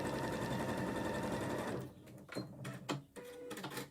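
A sewing machine stitching down a seam of a quilted star centrepiece runs in a steady close whirr for about two seconds, then gives way to a few handling bumps and soft rustles.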